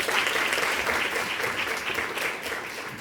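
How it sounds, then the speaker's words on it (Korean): Steady applause from attendees at a university startup-program training session in Korea, thanking an accountant instructor, a continuous crowd of hands clapping without talk for the full few seconds. "우리 열심히 교육해 주신 회계사님께 박수 부탁드리겠습니다."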